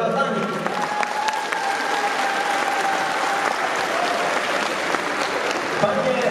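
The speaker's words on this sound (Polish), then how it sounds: "Jeszcze raz gorące brawa dla nich." A crowd claps steadily and continuously, a dense wash of applause with faint tonal music sounding underneath.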